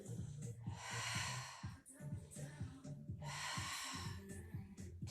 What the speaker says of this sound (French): J'inspire et j'expire. Inspire, expire.